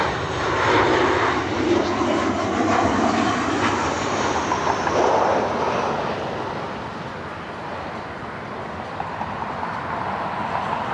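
A Delta airliner arriving from Atlanta, at a busy airport, gives a broad steady engine roar that holds loud for several seconds and then eases slightly as it passes.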